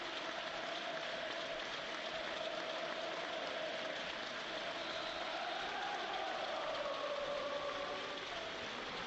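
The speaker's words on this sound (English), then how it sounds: "Not only the applause for Sir Bobby Charlton, but for Leicester City's former owner." Sustained applause from a large stadium crowd at a Leicester City v Sunderland football match fills the space, a dense, even wash of clapping heard at a distance that continues steadily throughout.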